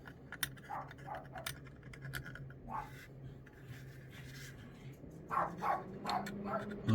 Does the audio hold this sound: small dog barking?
yes